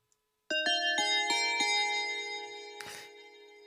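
A synthesized bell from the Nexus plugin rings in several repeated strikes with a bright, sustained metallic tone, followed by a brief noisy swell near the end.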